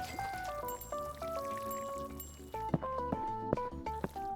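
Water pouring from a watering can over potted plants in the game Plant Nursery Simulator, a steady trickling flow with light splashes under soft game music, dropping out briefly partway through.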